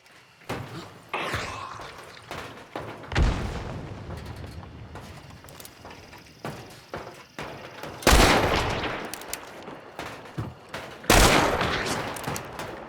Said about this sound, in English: One bomb lands pretty close.